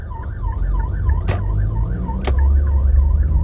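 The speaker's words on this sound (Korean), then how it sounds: "뒤에 소방차가 오는데 비켜줄 데가 없네." A fire engine's wailing siren cycles steadily behind a taxi in traffic, loud and close over the low rumble of the road, with two sharp clicks.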